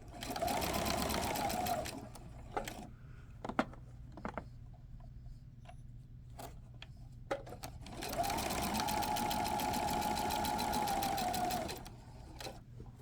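Sewing machine stitching bias facing around a neckline opening, running in two steady whirring bursts of about two and four seconds with a quiet pause and faint handling clicks between them.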